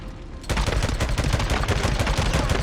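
Rapid automatic gunfire from the Days Gone video game, a sudden dense burst that keeps hammering loud and close after a brief quiet start.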